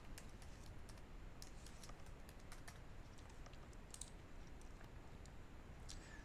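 Fingers typing a password on a Mac keyboard, a faint run of quick, light key clicks in irregular rhythm over a low steady hiss, with no talk.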